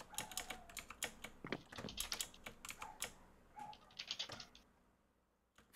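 Quick bursts of typing on a computer keyboard, sharp clustered keystrokes in an irregular rhythm, close and clear, tapering off into near silence at the end.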